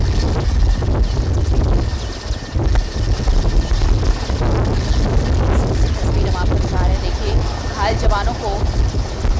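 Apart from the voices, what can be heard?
helicopter evacuating injured soldiers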